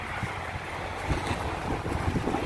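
Strong wind gusting against the microphone outdoors during a walk to shop for vegetables, a steady broadband rush with low thumping buffets, loud and close throughout.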